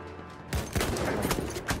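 Bursts of rapid gunfire crackle in the Battlefield 1 shooter game, several sharp volleys over about two seconds following a quieter lead-in, moderately loud against a busy battle background.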